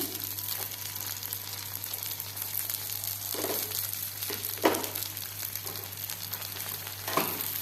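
Rava dosa cooking with ghee drizzled around the edges on a hot tawa, a steady crackling fry with a few sharper sizzling bursts, alongside a constant low electrical hum.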